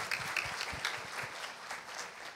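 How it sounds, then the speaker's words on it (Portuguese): An audience at a civil society talk on supporting municipal managers breaks into applause, a quiet, fairly distant spread of clapping from a crowd. "Eu queria pedir uma salva de palmas para todos vocês que são responsáveis por esses resultados."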